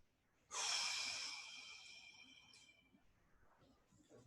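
One long, loud breath is pushed out through the nose or mouth during a stretching exercise, a close, airy rush that fades over a couple of seconds, followed by quieter breathing.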